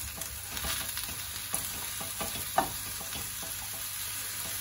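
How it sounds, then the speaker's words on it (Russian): Faint crackling sizzle of meat and potatoes frying in a pan for Georgian ojakhuri, with occasional scraping stirs, one sharper clink partway through; quiet and steady throughout. "И теперь мы это тщательно перемешиваем."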